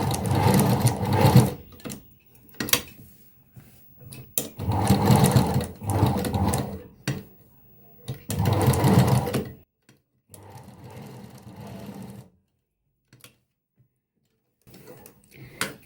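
An electric sewing machine stitches blouse fabric in three loud bursts of rapid mechanical whirring, with short pauses and handling noises between them and a fainter run near the end.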